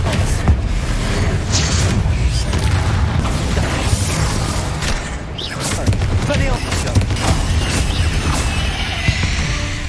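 In Hogwarts Legacy, a Confringo fire spell bursts during a fight with spiders, its loud booming blasts lost in dense, continuous combat noise with voices underneath.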